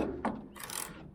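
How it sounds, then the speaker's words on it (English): A ratcheting wrench turns a 7/8 bolt on the strut rod of a 1965-66 Ford Mustang, one short metallic click followed by a brief burst of gritty ratchet clicks, close and alone. "So now we're gonna take out this bolt here so we can remove it."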